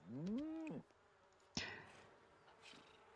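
Bees buzz in the Sims 4 Cottage Living farm game, a short, close, wavering drone that sweeps in pitch and then fades, followed by a sharp tap and faint background sounds.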